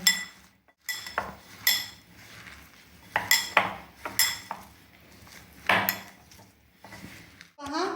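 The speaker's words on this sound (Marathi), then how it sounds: "आता हे सर्व मी हाताच्या साह्याने मिक्स करून घेणार आहे" Pea cutlet dough made with salt and breadcrumbs is worked by hand in a bowl. Knocks and clinks of utensils or the bowl come through in uneven, close bursts over a soft background of handling noise.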